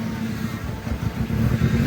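An old Hyundai Getz that sat unused too long and runs badly: its engine gives a brief, rough rev up close, a steady rumbling roar swelling slightly toward the end.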